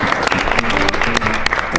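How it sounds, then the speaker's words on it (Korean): A short burst of lively audience applause at a birthday celebration, close and loud clapping from a small group, with a few faint voices underneath. "박수 한번 주세요."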